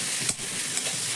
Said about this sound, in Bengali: এবার মশলার সঙ্গে আমি আলুটাকে একটু নাড়াচাড়া করে মিশিয়ে নেব।